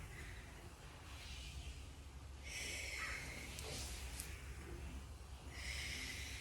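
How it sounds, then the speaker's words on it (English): Several harsh crow caws ring out in short bursts over a steady outdoor rumble, fairly distant, with no talking. "You can hear the crows in the back."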